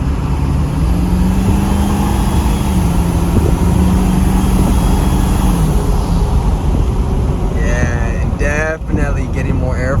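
A stock 7.3 Power Stroke diesel truck engine fitted with a Sinister Diesel intake runs loud and steady under light throttle, with a low engine tone rising and falling. Wind buffets the microphone, and a voice talks near the end.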